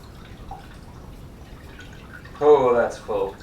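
Liquid pours into a container for elderflower champagne, a brief bubbling gurgle that rises as it fills, stops, then spurts once more, close up against faint room quiet.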